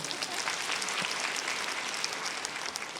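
A church congregation bursts into sustained applause, a dense, even wash of clapping that fills the space steadily with no pauses and no voices above it.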